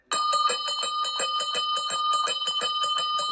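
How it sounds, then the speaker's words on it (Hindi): A small temple-style bell rings in a rapid, steady series of about twenty bright metallic strikes, clear and close, with no talking over it. "वैसे ही घंटी बज गई।"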